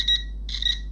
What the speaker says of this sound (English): it does, yes, it does beep